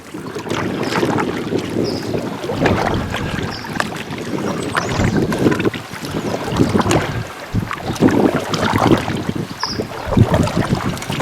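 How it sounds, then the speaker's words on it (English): Gusty wind buffets the microphone on a small boat during a trip down the South Saskatchewan River, roaring in uneven surges with faint splashes and hull knocks throughout and no voices. "Oh, and here comes the wind."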